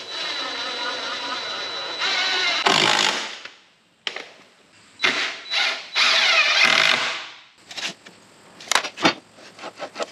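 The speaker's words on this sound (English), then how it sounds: "get one screw in from the bottom here, then readjust it and get the second screw in" Cordless power drill driving screws into treated lumber while building a mini split stand, several whirring bursts of a few seconds each with short pauses, close and loud, followed by light knocks and handling.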